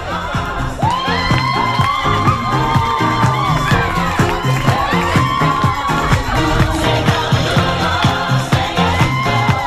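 Crowd cheering and whooping with music at a horse show lap of honour, dense and steady throughout with lively shouts and a tonal melody over the noise; no clear clapping stands out.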